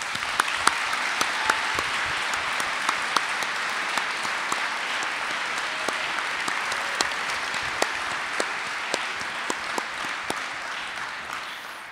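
An audience gives a keynote speaker a sustained round of applause at a Martin Luther King Jr. Day event at Bates College, dense steady clapping filling the hall at an even level throughout.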